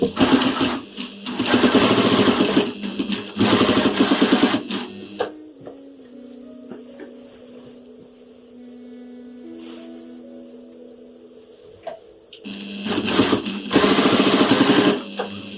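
A sewing machine fitted with a walking foot stitches binding through the layers of a quilt, running in two loud, steady whirring bursts at the start and end with a quieter lull between.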